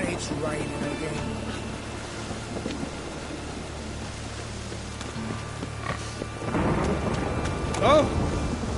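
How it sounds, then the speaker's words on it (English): Steady rain and rolling thunder from The Witcher 3: Wild Hunt fill the scene, a constant wash of rainfall with a louder rumble swelling near the end, while in-game voices talk over it. "And it's raining again."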